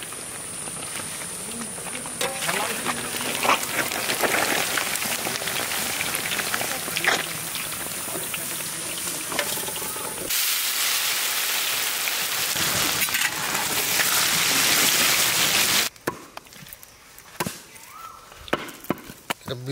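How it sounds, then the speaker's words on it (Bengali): Eggs fry for a layered goat mutton biryani being cooked outdoors for village people, giving a sustained crackling sizzle like rain. Sharp knocks of chopping break through it, the sound shifts between sections, and voices come in at times. "ডিম ভাজা চলছে আমাদের।"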